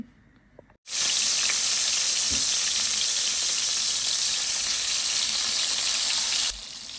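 Rohu fish pieces hit hot oil and burst into a loud, steady sizzle that holds evenly for several seconds before dropping back near the end, close and bright with no talk.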